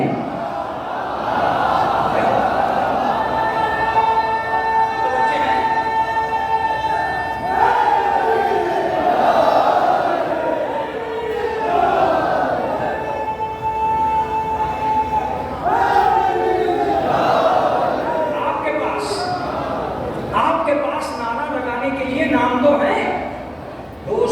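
A large crowd at an annual religious majlis at a dargah chants slogans together in loud, rhythmic unison, rising and falling in repeated waves with a leading voice heard among them.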